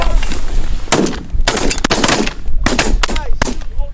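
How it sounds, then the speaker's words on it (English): Shotguns fire at mallard and pintail ducks during a seven-hunter duck hunt, several loud, close blasts in a quick ragged volley, with hunters calling out between the shots. "Someone shot another Pintail out of that."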